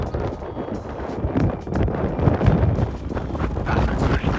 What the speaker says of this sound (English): Wow, very windy.